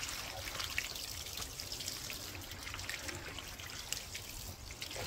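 Water flushing out of a 1993 Corvette radiator, a steady close splashing trickle and pour that runs continuously with no talk over it.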